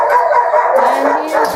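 A dog at an animal shelter lets out a sustained, close howling bark that stays loud and continuous through the short moment.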